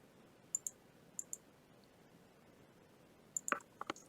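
Sparse clicks of keyboard typing on a computer while filling in a login form: two quick pairs of taps early, then a tighter cluster of several keystrokes near the end, faint over a quiet room hiss.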